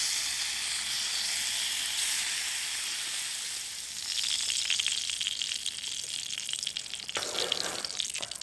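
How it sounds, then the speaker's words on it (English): Bacon sizzles and crackles loudly in a pan over a campfire in spring woods, a constant hiss that grows busier and more popping toward the end. "let's bring on the bacon"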